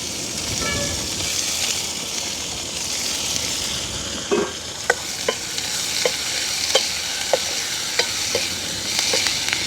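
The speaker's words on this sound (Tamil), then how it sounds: "இப்போ நாங்கள் தாளித்து போடுவோம்" Hot oil sizzles loudly and steadily close by as spices are tempered for sambar, with a few sharp pops and crackles breaking through near the end.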